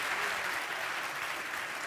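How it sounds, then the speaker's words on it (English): Conference audience at SmashingConf Antwerp applauding a speaker: a brief, dense burst of clapping from a crowd, steady and fairly close. "Round of applause to Nick Desbarats."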